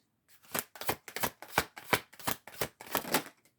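Oversized tarot cards being riffled and shuffled by hand, about nine quick papery bursts in a steady rhythm, close and soft with no talking.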